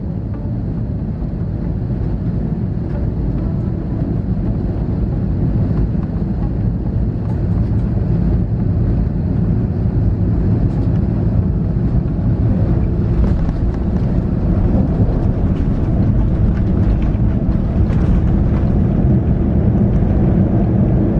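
PAL Express Airbus A321 airliner descending toward Bacolod-Silay International Airport, heard from the cabin: a steady, loud, broadband engine and airflow roar holding constant throughout, with no talk.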